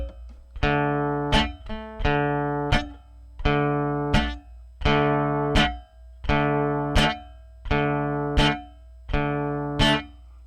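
Muted guitar chords are struck percussively in a steady strumming rhythm, each chick cut short before it can ring, with pairs of sharp attacks repeating about every second, close and clear with no voice.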